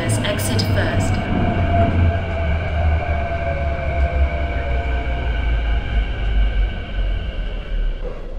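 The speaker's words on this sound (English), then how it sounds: "The train to Tilking Lane is arriving." A simulated MTR Kwun Tong Line Q-Train rumbles into Tiu Keng Leng station in the Hmmsim 2 game, a steady low roar with faint squealing tones gliding downward as it slows, while an announcement voice is heard at the start.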